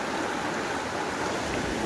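Water runs in across a tiled floor during heavy monsoon rain, a steady, full rushing and splashing wash that holds constant and close with no voices.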